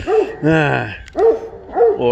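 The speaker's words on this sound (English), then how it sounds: "like maybe even my dogs over there, maybe you can hear them barking in the background right now." Dogs bark in short, sharp bursts at a moderate distance, with several yips repeating about every half second, while a person's voice briefly speaks over them.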